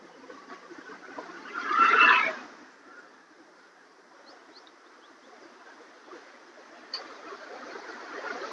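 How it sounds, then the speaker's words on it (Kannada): The Kali river in Dandeli town runs forcefully near a bridge in summer, giving a steady, soft rushing wash throughout, with a brief louder swell early on and a few faint chirps above. "ನದಿ ಎಷ್ಟು ಒಂದು ರಭಸವಾಗಿ ಕಾಳಿ ನದಿ ಹರಿತಾ ಇದೆ."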